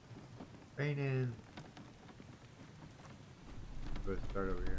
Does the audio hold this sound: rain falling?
yes